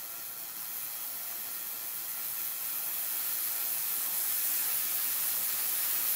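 Air flow in a spark-gap wireless power demonstration hisses steadily as it is switched on, a broad, even rush of air that swells gradually louder over several seconds, with no voices.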